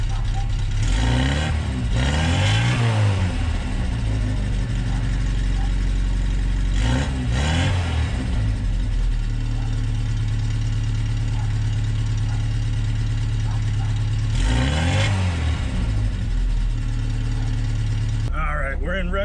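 A warmed-up VTEC-engined Mini estate car revs repeatedly, several rising and falling engine surges over a steady loud idle, close to the microphone with no talk.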